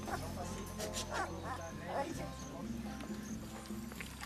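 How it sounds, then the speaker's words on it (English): Guard dogs raised to protect animal herds bark repeatedly at close range, with yips and whimpers, while a voice narrates over them and hooves clop in the background. "A pair of guard dogs are being raised and trained to protect the animal herds from roaming dogs."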